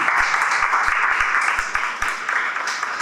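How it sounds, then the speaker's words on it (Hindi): An audience at a seminar orientation session bursts into applause: a dense, steady patter of many hands clapping at moderate distance, fairly even throughout. "सऊद के लिए तालियां जी, जोरदार जी"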